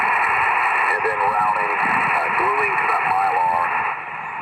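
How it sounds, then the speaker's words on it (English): A single sideband ham radio transmission on the 40 meter band, a distant operator's voice coming through a portable HF receiver with the thin, pitch-warped SSB quality over a constant hiss of band noise. "I've got a single sideband ham radio signal coming in clear."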